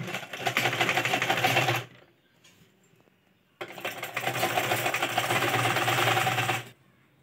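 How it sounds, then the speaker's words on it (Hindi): A sewing machine runs a finishing seam on cloth in two steady, fast-buzzing bursts of about two and three seconds, close and loud, separated by a short quiet pause. "अब हम यहाँ पे फिनिशिंग वाली सिलाई लगाएंगे।"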